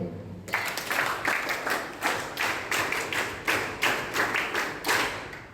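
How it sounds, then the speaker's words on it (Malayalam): An audience at a closing ceremony for a student police cadet camp applauds the students with loud, rhythmic clapping in unison, a steady beat of about a dozen claps. "നിങ്ങൾക്ക് വേണ്ടി തന്നെ നല്ലൊരു കയ്യടിയുണ്ട്"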